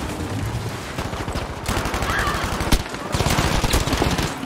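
An MG42 machine gun in a Battlefield 5 match rattles off rapid, steady bursts that carry on through the whole stretch, loud and close, with the sound of the battle around it.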